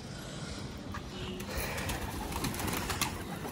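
Pigeons coo softly at a breeding setup over a steady noisy background, with a few faint calls rising now and then; no talking.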